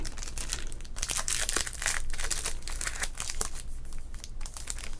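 Crisp, continuous crinkling of a 1990 Topps baseball card pack wrapper held close, dense rustling crackles that rise and fall in bursts without pause and with no talking.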